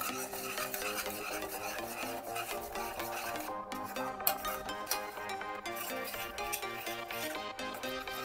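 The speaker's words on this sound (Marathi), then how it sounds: "थोडंसं हिंग टाकणार आहे, हळद टाकणार आहे. आता हे सगळं मिक्स करून घ्यायचं चांगलं." Masala with turmeric and asafoetida is stirred and fried in a pan for a prawn curry, with a steady soft scraping and faint sizzle running under continuous background music.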